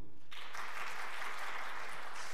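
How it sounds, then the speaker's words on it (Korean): A church audience claps for a pastor in a short, steady burst of light, moderately loud applause that starts abruptly and continues evenly. "아직은 박수가 약하네요."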